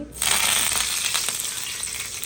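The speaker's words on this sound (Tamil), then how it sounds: "எண்ணெய் கிட்டதுக்கப்புறம் மீனை ஒன்றா போட்டு எடுத்துக்கலாம்." Fish frying in hot oil on a dosa pan for a homemade fish curry, heard as a sudden loud burst of sizzling that stays steady and close for a couple of seconds.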